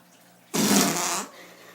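A single fart-like blast from a prank toy, a broad noisy burst lasting under a second, loud and close, followed by a quieter tail; no talk.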